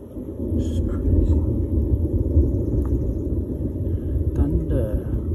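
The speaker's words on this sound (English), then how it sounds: "Thunder." Thunder rumbles as a low, continuous roll that swells and fades across the whole stretch, with a few faint, brief noises on top.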